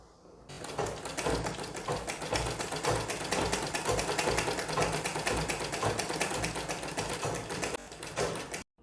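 A sewing machine runs steadily for several seconds, stitching the side seam of a lined blouse with belt strips. The rapid mechanical chatter is close and even, with a short pause near the end and no talk.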